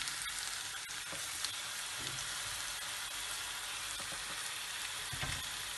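Meat and onions sizzle in oil in a pot for a tajine with prunes, a dense, even frying hiss, close and steady, with faint occasional stirring clinks and no speech.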